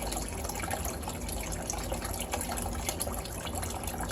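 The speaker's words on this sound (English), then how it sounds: "Watch how quick this water goes." Water rushes through an aquaponics fish-tank setup with a swirl filter, a steady close gurgling flow with occasional drips and splashes, continuous and even.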